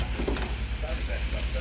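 Hot dogs and sausage patties sizzle on a barbecue grill with a steady, close, dense crackling hiss, while faint voices talk in the background.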